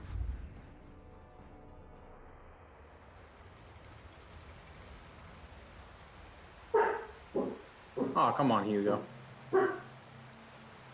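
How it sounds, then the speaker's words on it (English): A dog barks in several loud, close bursts partway through, some clustered rapidly, following quiet room tone and a person speaking. "the bird shut up, so now the dog's gonna be loud"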